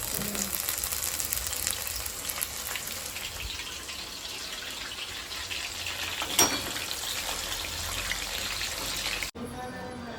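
Steady oil sizzling and crackling as sprouted mung beans fry in a pan, fairly loud and continuous, with a brief clatter near the end before it cuts off.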